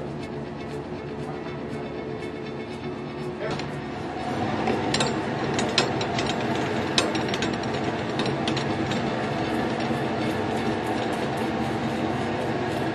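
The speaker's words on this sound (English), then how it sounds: "Today we'll be testing a CN50 for dust ingression using a dust chamber." Dust chamber running through a dust sealing test on an Intermec CN50 handheld terminal gives a steady mechanical rumble and rattle, joined midway by louder clicks and scattered ticking, with no talk.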